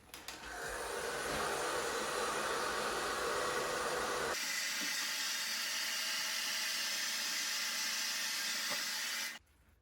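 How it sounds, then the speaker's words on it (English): A hair dryer heats the leather cover of a 1990s Flite bicycle saddle, a loud, steady airy whoosh with a motor whine that shifts setting midway, runs about nine seconds, then cuts off abruptly. "take the hairdryer to it."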